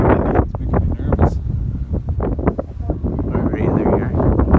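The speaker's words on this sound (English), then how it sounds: "That's pretty windy." Gusty wind at Sutton buffets the microphone in a steady low roar, with faint rustling and a few short bursts of talk underneath.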